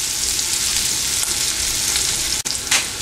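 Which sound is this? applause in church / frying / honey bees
frying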